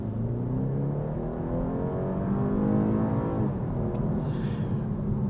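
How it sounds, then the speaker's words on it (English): A 2024 BMW 230i Sport at full throttle gives a steady, rising engine drone heard from inside the car, building smoothly for several seconds with no talking. "Let's floor it here."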